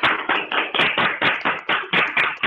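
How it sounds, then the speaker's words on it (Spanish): Audience clapping at the close of a talk on Saint Augustine and contemplation, a steady run of sharp, close handclaps in rhythmic bursts with no voices over it. "te damos un aplauso por esta charla que nos has dado"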